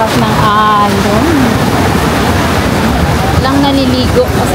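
Strong waves roar at Boracay's front beach, a constant loud wash of surf and wind buffeting the microphone while people talk over it.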